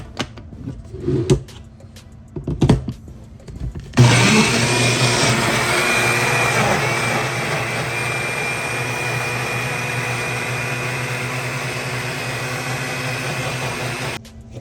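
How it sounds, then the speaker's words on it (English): A couple of clunks and clicks, then a blender grinding a pork stew marinade starts up and runs steadily with a loud, constant whirring roar until it stops. "get that on the blender, grind it up for you guys"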